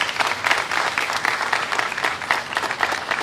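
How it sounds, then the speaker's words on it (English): Applause from an outdoor crowd at a city event marking summer jobs for youth, a steady dense patter of many hands clapping fairly close, with no talk over it. "just please give them a round of applause as well."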